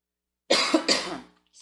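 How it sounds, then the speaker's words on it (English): A single close cough, a short harsh burst with a second hacking pulse, then quiet. "Now I'm going to start coughing."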